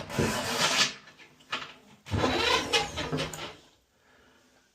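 A drain auger cable is drawn out of a bathtub drain in two raspy scraping bursts, each about two seconds long, with a brief pause between them and quiet at the end.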